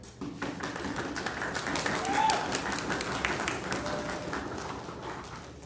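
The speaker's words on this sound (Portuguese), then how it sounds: "A mesa aplaude o primeiro-ministro e convida o líder da oposição." At a debate tournament semifinal, the judges' table gives the prime minister a moderate, steady round of clapping that fills the room for several seconds.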